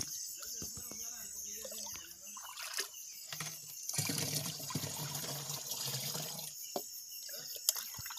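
Water trickling and splashing from a small spring in the bush, close and fairly steady, with crickets chirping around it and brief bumps and movement nearby.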